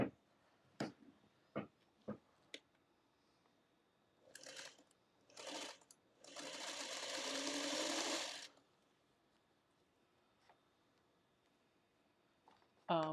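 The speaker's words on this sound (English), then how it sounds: "take this over to our sewing machine and we're going to stitch 1/4 of an inch" A sewing machine whirs in a steady two-second run of stitching, preceded by a few sharp clicks and short mechanical bursts, then quiet.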